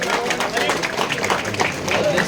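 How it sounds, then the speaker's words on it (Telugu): An audience claps hands together at a political party gathering, a dense, steady patter of many hands filling the space at close range, with voices mixed in underneath. "అందరూ గట్టిగా చప్పట్లు కొట్టాలి"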